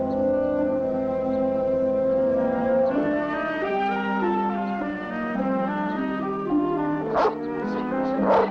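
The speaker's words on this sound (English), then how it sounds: "that's quite a dog you got there" A dog lets out a long run of drawn-out, howling bow-wow yelps and whimpers, fairly close and steady, with a few sharper barks near the end.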